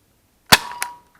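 A Mega foam dart blaster fires a single dart with a sharp close snap followed by a quick second click and a faint ringing tail.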